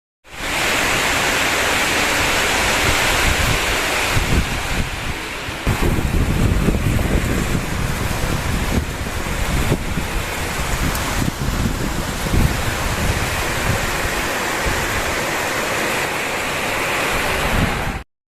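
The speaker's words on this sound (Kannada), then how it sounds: "ವಿಪರೀತ ಗಾಳಿ ಏನ್ ಊರೇ ಹೋಗ್ತಿದ್ಯೋ ಆ ತರ ಗಾಳಿ ಬೀಸ್ತದೆ" Strong wind roars during a stormy spell of wind and rain, a loud, continuous broadband rush buffeting the microphone with surging gusts for nearly the whole clip, no voices.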